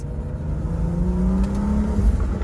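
BMW M235i engine revving hard under turbo boost, a loud sustained roar with a rising drone and a brief whir, close and continuous for a couple of seconds.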